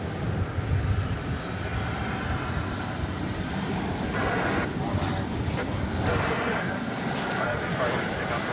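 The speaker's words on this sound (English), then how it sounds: "We've got American Flight 2188 coming in from Omaha, Nebraska. It's a 737-800." An American Airlines Boeing 737-800 arrives at DFW on a flight from Omaha, its engines a steady broad roar, moderately loud and unbroken throughout, with a faint voice underneath.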